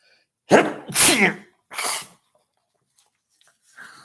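Three sneezes in quick succession, the first two close together and the third a moment later. They are loud and near, with a few faint breaths after them.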